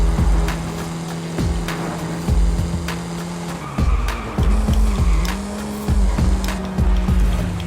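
Forza Horizon 5 car racing along a highway, engine revving loudly through repeated gear changes with sharp shift pops and some tire squeal, close and continuous without talking.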